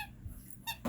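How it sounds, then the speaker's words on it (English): A dog's squeaky toy gives two quick, faint squeaks near the end of a short, quiet indoor moment. "My dog is playing with her squeaky toy."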